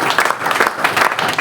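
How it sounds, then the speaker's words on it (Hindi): Loud applause from an audience at a business achievers training event, brisk clapping that is close and continuous. "दिव्य सर के लिए जोरदार तालियां होना चाहिए।"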